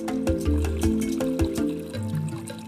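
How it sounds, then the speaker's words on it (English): Water pumped into a cattle drinking trough, splashing and gurgling in uneven pulses with a low bubbling churn, close and moderately loud. "we're also pushing water to the drinking trough for the animals"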